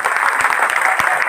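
Seminar audience at Gandhi Park in Gonda breaking into loud applause: a close, energetic burst of many hands clapping, with crisp individual claps standing out in a dense, rapid patter.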